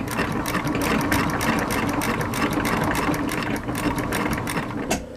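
A sewing machine runs steadily while stitching moccasin leather, with a rapid, even mechanical clatter close by, holding its pace for several seconds before a brief slowdown at the end.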